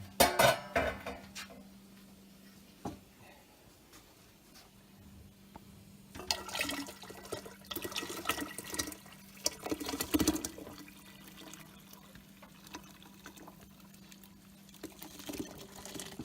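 Maple syrup pours into a container, a soft running splash of liquid that swells and eases in uneven surges, with no talking over it.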